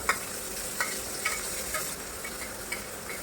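Capsicum and chopped green chillies stir-fry with onions for homemade chilli chicken: a quiet continuous sizzle punctuated by regular light scrapes of a spatula against the pan, with no talk.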